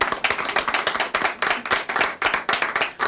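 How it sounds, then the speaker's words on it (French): A live audience at an evening show in Winnipeg claps steadily and densely, a close, continuous wash of many hands that holds at an even level from start to finish, with no voices over it. "On l'applaudit encore."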